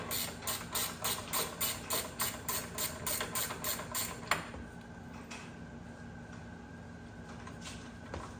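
A ratchet loosening the two 15 mm caliper bolts on a Can-Am Maverick X3 during a rear wheel bearing job gives a rapid, even run of close metallic clicks for about four seconds, then stops and leaves quiet handling noise.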